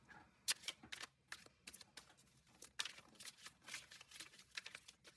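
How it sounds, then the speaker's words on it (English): Tarot cards shuffled by hand, quiet and close, in a burst of rapid riffling snaps and flicks with brief pauses in between. "Come on, shuffle."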